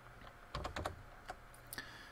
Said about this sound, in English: I can just start typing letters here